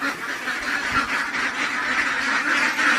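Ducks quack steadily by a pond in a noisy outdoor setting, a dense, continuous chorus of calls with no pauses.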